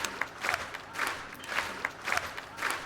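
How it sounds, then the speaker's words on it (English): Applause sound effect during an online bridge tournament recap, coming in a few short bursts of clapping and cheering that swell and fade in a quick rhythm at moderate volume. "That deserves some applause."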